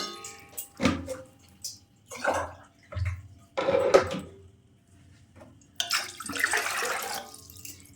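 One litre of water poured into a pot for boiling kheer-filled puli pithe, heard as a few close, uneven splashing bursts with light clanks of the pot in between.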